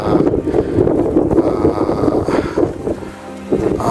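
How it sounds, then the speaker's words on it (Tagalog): Wind buffeting a microphone outdoors in snowy, cold Canadian winter, a continuous low rumbling roar with gusty swells that dips briefly near the end before rising again. "Mahangin lang kaya talagang malamig."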